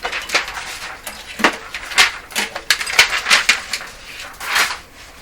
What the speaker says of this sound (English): Sounds like a lot of rustling for a power cord.